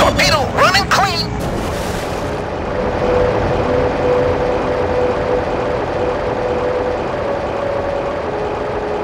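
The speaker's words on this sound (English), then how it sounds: "Torpedo running clean!" Torpedo launched in the Heroes of the Pacific naval combat game, a steady rushing hum through water after a short burst of speech, sustained and moderately loud to the end.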